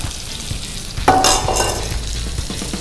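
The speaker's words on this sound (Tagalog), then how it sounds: "now we're gonna saute this together" Ginger juliennes, onions and garlic sauté in a hot pan with a steady, close sizzle, and a bright clink of a utensil against the pan partway through.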